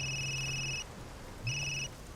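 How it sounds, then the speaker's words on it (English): A telephone rings in Resident Evil Village VR: two electronic ring bursts with a pause between, clear and alone without any talk. "The phone is ringing."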